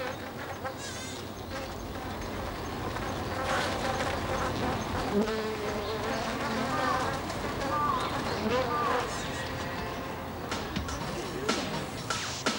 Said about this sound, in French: Elles se dirigent vers la guêpe qui est bien plus grosse qu'elles